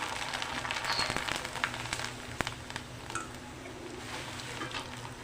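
Snacks frying in hot oil at home, a steady bubbling sizzle with crackling pops that runs unbroken through the whole stretch, close and fairly loud, with no talk over it.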